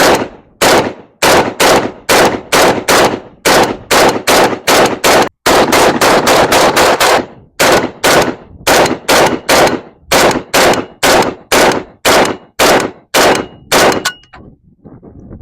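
A Century Arms VSKA rifle emptying a second magazine outdoors, loud close sharp shots in a rapid rhythm of roughly two dozen separate reports with short gaps, then silence.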